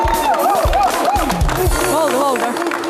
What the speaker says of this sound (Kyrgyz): Өзүбүзгө өзүбүз бир кол чаап коюп алачы